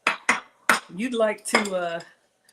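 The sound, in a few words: heavy cast iron pan being handled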